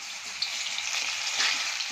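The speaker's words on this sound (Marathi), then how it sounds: "कमी गॅसवर छान असं फ्राय करून घेऊया. अगदी छान कुरकुरीत झाले पाहिजे." Chickpeas fry in hot oil in a kadai over a low gas flame, giving a steady, dense, close sizzle that holds evenly throughout with small crackles and no talking.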